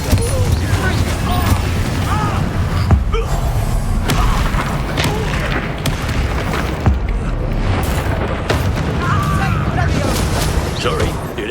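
Booming fire-spell blasts from the Confringo curse in Hogwarts Legacy, loud and dense, repeated across the stretch amid game effects and a busy, continuous mix, with occasional talk over it.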